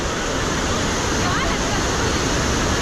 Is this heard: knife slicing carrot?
no